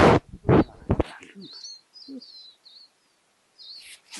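A tame flycatcher gives a few thin, high chirps in quick short bursts, heard close after a voice fades, with quiet gaps between calls.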